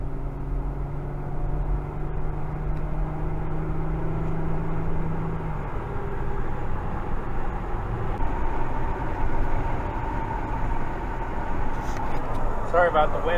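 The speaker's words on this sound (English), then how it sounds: "Sorry about the wind noise, since the window won't go up." Wind roaring through an open car window that won't close while an Infiniti drives along, a steady broadband rush with low rumble throughout, loud and continuous with no voice heard.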